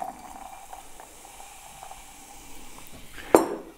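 Wildberry tonic being poured over gin into a wine glass, a soft, steady fizzing pour with gentle bubbling that ends in a brief, brighter splash and clink.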